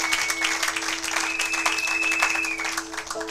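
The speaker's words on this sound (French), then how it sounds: "acclamons pour la gloire de notre dieu de notre seigneur" Church congregation clapping in broad, steady applause that fills the space for about three seconds, with a sustained organ or keyboard tone running beneath and faint voices mixed in.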